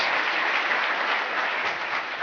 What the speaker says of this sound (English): Please welcome all of you with a big round of applause.